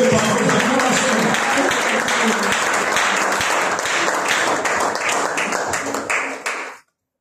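A church congregation at a Sunday service bursts into loud, sustained applause and cheering, claps overlapping densely with voices mixed in before it stops abruptly.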